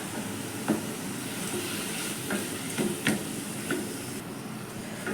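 Amaranth leaves frying in a pan with curry leaves, giving a steady low sizzle with a few soft stirring scrapes and clicks, no talking.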